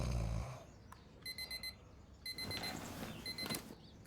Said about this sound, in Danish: Kasper slukkede sin alarm